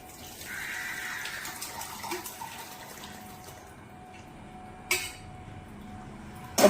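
Water drained off boiled drumstick leaves, a soft, quiet pouring splash running for a few seconds, then fading, with a couple of sharp clinks near the end.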